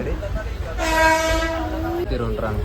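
A moving train rumbles steadily, and a loud horn blares for about a second before the rolling noise continues.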